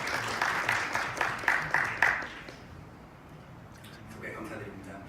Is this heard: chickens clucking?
no